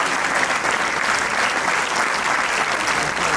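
Students and guests at a government school prize-giving ceremony clap in a sustained, loud round of applause that stays even throughout, with no speech over it.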